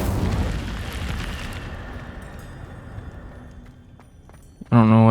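Incendio fire spell cast in Hogwarts Legacy: a loud whooshing burst of flame that rolls out and slowly fades over several seconds, followed by a brief voice at the very end.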